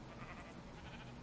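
A sheep in Minecraft's Better Than Wolves mod bleats once, a short wavering nasal call at moderate volume.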